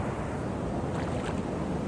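Ocean surf on the Oregon coast, a continuous broad wash of waves mixed with wind buffeting, steady and fairly loud, with no talking.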